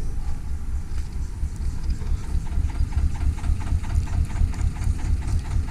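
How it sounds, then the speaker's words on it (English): A narrowboat engine idles close by in a steady, continuous low throb with a faint rhythmic knock, holding an even loudness throughout with no talk over it. "I love the engine sound."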